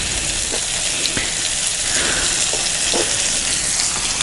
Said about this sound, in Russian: Так, жарим рыбку